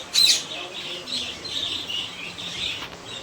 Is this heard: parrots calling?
yes